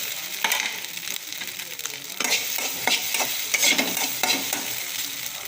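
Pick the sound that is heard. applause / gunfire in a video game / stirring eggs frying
stirring eggs frying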